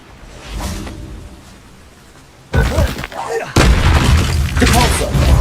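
Bombarda spell explosion in the Hogwarts Legacy game, a heavy booming blast that kicks in sharply and is followed by a second loud impact and continuing crashing debris noise.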